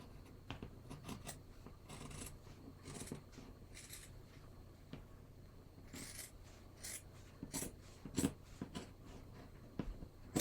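Scissors snip through shirt fabric in a quiet room, with a series of short crisp cuts and soft rubbing of cloth between them, close and fairly faint.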